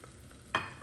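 Onion, jalapeno and garlic hit hot oil in an Instant Pot for refried pinto beans: a sudden close hiss of sizzling that bursts up, then settles into a lighter, steady fizz.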